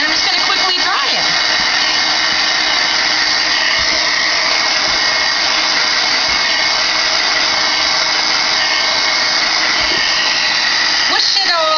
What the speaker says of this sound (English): I'm going to grab my heat tool, and I'm just going to quickly dry it.